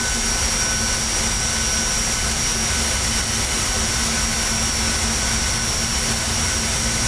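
A CRJ-200 regional jet's engines in a flight simulator with an add-on sound pack give a steady, loud, continuous whine and roar, with a high tonal hum over broad rushing noise and no talking.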